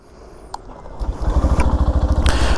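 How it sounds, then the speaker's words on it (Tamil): A Yamaha FZS V4 Hybrid 2025 motorcycle engine cranks and catches, settling into a steady, throbbing idle with rhythmic low pulses after a brief mechanical clatter. "இன்ஜினை ஸ்டார்ட் பண்ணி பார்ப்போம்"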